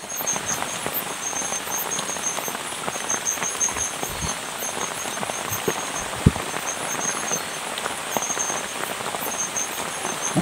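Heavy rain drums on a camping shelter above a river during dinner, a dense steady patter with occasional sharper drops and taps, continuous throughout.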